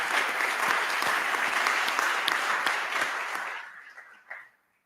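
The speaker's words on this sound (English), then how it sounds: "Let's give another round of applause to Dr. Jeter." A large audience at an honors convocation claps in dense, sustained applause that holds steady for about three and a half seconds and then thins and fades out, a few last claps trailing.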